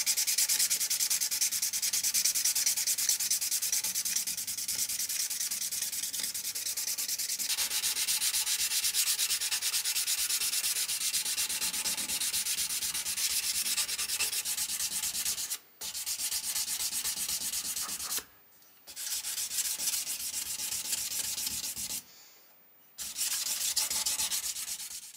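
A forged 5160 steel knife is ground on a 500 grit belt, giving a steady loud abrasive whine and hiss that runs continuously, broken by a few short silent gaps where the blade is lifted.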